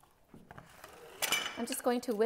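A Pad Thai sauce is whisked in a bowl, giving light clinking taps of the utensil against the dish, and a voice speaks near the end.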